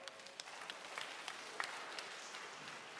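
A small congregation at a student Mass gives faint, scattered applause, individual claps popping out irregularly over a soft, distant patter.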